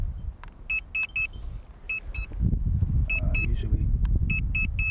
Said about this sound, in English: The battery keeps on beeping.